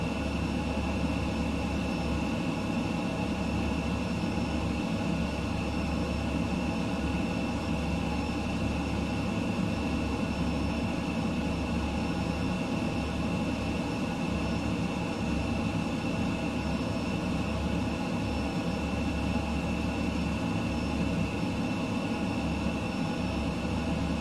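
An F-15EX jet flying low in Microsoft Flight Simulator 2020 gives a loud, steady engine roar with a whining tonal drone on top that stays constant throughout, with no speech.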